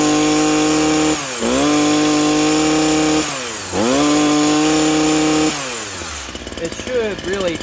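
A STIHL HS82R hedge trimmer engine revs up sharply under throttle, then falls back to idle, rising and falling twice in close, loud bursts before settling into a rougher, sputtering idle.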